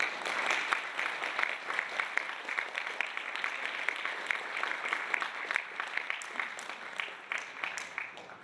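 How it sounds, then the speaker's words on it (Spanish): An audience at a lecture hall claps to welcome a speaker, sustained dense applause with distinct individual claps, moderately distant and fading slightly toward the end. "Recibamos con un fuerte aplauso."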